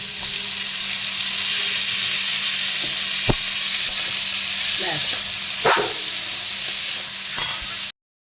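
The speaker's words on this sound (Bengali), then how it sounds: "খুব বেশি লাল লাল করে কিন্তু ভাজবো না" Whole spices and tomato fry in a pan with a constant close hiss of hot oil, interrupted now and then by brief scraping clicks of a spoon stirring.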